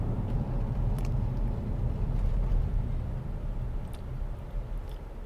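A 2024 Nissan Armada SL accelerating hard from a standstill on concrete pavement, heard from inside the cabin as a low, muffled engine and road rumble that holds steady, with no talk.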